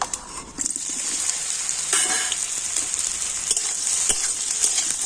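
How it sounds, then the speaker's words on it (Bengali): Soybean chunks fry in well-heated oil in a pan, giving a steady, close, bright sizzle with occasional stirring scrapes throughout, no voices. "তেলের উপর এখন সয়াবিনটা খুব ভালো করে আমি ভেজে নেবো"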